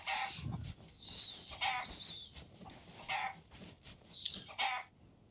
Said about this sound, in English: I don't know if there was any chickens on this island.